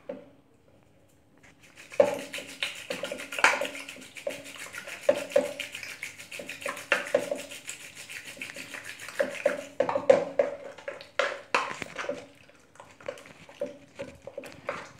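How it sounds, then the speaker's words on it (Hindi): A wooden ravi churner mashes cooked sarson ka saag greens with maize flour in a pot, giving repeated soft, wet rubbing and thudding strokes, close and fairly quiet, with brief pauses between bursts. "सब्जियों को मैश करने के लिए आप किसी भी चीज़ का यूज़ कर सकते हैं। हमने यहाँ पर रवी का यूज़ किया है।"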